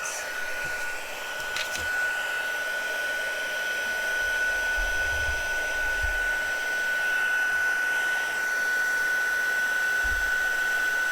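A heat embossing tool blows hot air steadily and loudly for the whole stretch, a continuous whooshing hiss close by with a faint whine, warming embossing powder on a split acetate birthday card.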